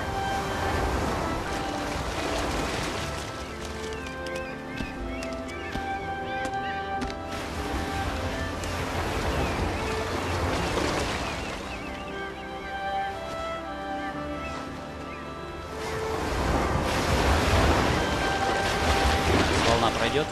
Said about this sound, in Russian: Волна пройдет.